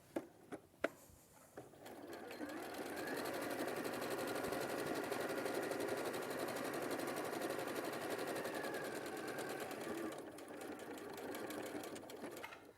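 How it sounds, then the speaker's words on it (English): A sewing machine stitches a quarter-inch seam through fabric and cork in a steady, continuous whirring run of about eight seconds, preceded by a few sharp clicks and ending abruptly. "I'm going to sew down each side and across the bottom"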